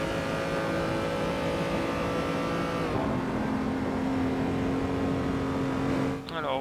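A race car in Assetto Corsa runs flat out past Raidillon with a loud, steady, high engine whine. The pitch drops as the car shifts, then climbs again, and a commentator talks over the engine in places.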